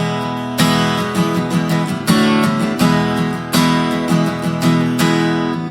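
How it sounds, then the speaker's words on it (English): Pre-chorus of a song strummed on acoustic guitar, with bright, close strokes in a driving rhythm and regular accented downstrokes, played alone without voice. "And then on the pre-chorus, we're going to sound like this."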